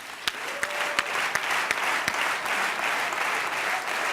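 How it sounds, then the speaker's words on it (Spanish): Applause from an audience at a music awards gala, steady dense clapping with a few sharp, louder claps standing out near the front, continuing without a break. "estos 20 aplausos."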